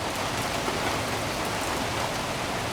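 Steady rain falling on an afternoon in northeast Texas, a constant dense hiss of drops on surfaces, moderately loud and unbroken with no voices.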